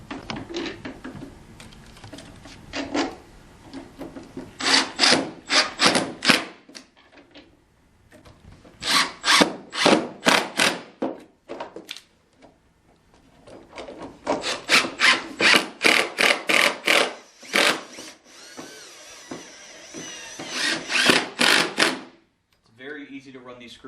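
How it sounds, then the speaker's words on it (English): Screws are driven through a wood wall bed panel in repeated bursts of rapid ratcheting buzz, each run lasting a couple of seconds with short pauses between. "Easy to run these screws all the way through the panel, so do not over-tighten."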